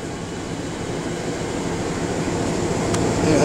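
Locomotive air brakes released at a railway museum, a steady loud rushing hiss of escaping air that swells slightly toward the end, heard close with no speech.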